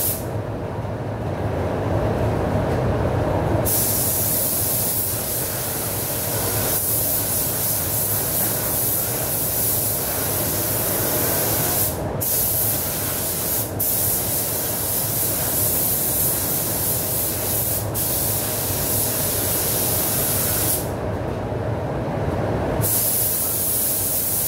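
A spray gun lays down a second full coat of fast-dry clearcoat as a loud, continuous close hiss that runs nearly unbroken, with a few very brief pauses in the spray.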